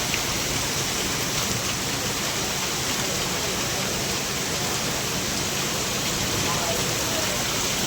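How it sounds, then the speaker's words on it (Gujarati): Steady rain pours down as a constant broad hiss, moderately loud and unbroken throughout, with no other sounds standing out. "હજી વરસાદ ચાલુ છે."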